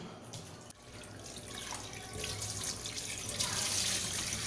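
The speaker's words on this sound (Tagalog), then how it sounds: "hugasan muna natin ng mabuti yung manok" Chicken being washed under a running kitchen tap, a steady splashing stream of water that grows slightly louder and fuller over a few seconds, with no talking.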